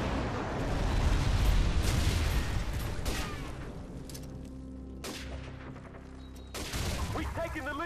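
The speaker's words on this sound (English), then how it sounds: "Friendly airstrike on the way." Airstrike explosions in the video game Call of Duty 4, heavy rumbling booms and blasts rolling close and loud, followed by scattered shots and bursts, with a voice talking over parts of it.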